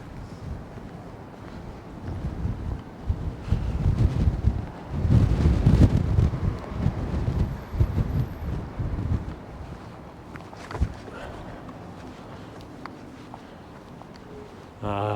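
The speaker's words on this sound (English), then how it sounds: "the wind's quite strong" Strong wind on a sunny, chilly day in Lerwick, Shetland, gusting in heavy rumbling bursts against the microphone that swell and then ease, with faint rustling underneath.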